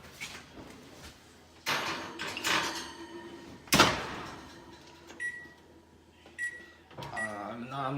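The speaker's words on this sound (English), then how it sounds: "let's go put it into the oven" Kitchen oven door pulled open and pushed shut while baking an apple dish, with a loud clunk of the door near the middle, softer thuds and clatter around it, and a few brief beeps toward the end.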